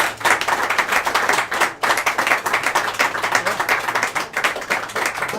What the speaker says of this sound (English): I think the lads deserve a huge big round of applause